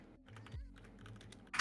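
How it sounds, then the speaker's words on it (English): Typing on a computer keyboard at a gaming stream setup, a quick run of soft key clicks close by with a brief louder clack at the end, no talk. "Lucky, you see what I'm typing?"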